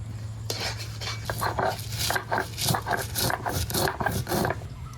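Raw mango pickle with jaggery and oil being stirred in a wok, with repeated scraping and clinking of a metal spoon against the pan over a low hum, loud and close with brief voice-like sounds.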